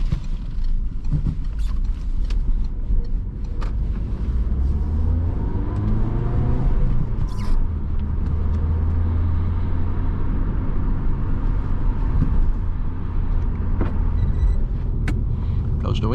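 A Peugeot RCZ 1.6 16V engine drones and climbs in pitch as the car accelerates in second gear at night, a steady in-cabin hum with mechanical whir and a few clicks throughout.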